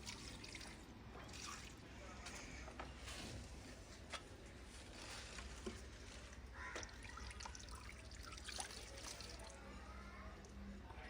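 Steady trickling irrigation water runs continuously into a vegetable field, with faint drips and splashes, a soft outdoor wash of flowing water throughout.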